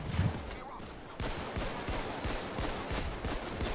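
Shotgun blasts and rapid gunfire crackle in the heist video game Payday 2, loud and closely spaced, a burst of repeated shots with a voice faintly under the barrage.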